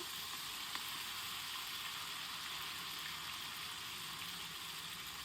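Ghewar batter for the Rajasthani sweet is poured in small amounts into hot oil, giving a steady, dense, loud hiss of frying that holds without a break from start to finish.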